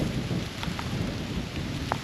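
Steady rain falls through a wooded hillside during a stormy spell on a whitetail bowhunt. A dense, even hiss of drops fills the whole span, with a few sharper taps close by.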